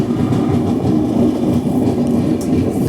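Amritsar Nanded Sachkhand Express running on Indian rail track, a steady loud rumble of carriages with a continuous low drone and faint rhythmic clatter throughout, no voices.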